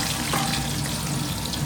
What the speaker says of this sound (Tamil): கடுகு பொரிஞ்சிட்டு